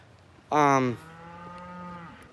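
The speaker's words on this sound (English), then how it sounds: "I guess we got a cow out," A cow or calf lets out a loud, close moo that starts with a strong blast and then trails off into a long, lower, quieter drawn-out tone.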